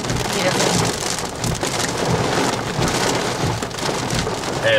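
Heavy thunderstorm rain pours down steadily in Columbus with a dense hiss of drops, wind picking up, and low thunder rumbles beneath it; a voice is faintly heard.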